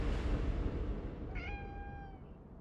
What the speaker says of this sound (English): They talked about this black cat.